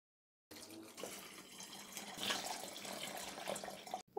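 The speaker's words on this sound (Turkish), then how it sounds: "Üzerine bile doluncaya kadar içme suyu koyuyorum." Drinking water poured into a bottle, a steady splashing, gurgling stream lasting about three and a half seconds, close and fairly quiet, starting suddenly after a short silence.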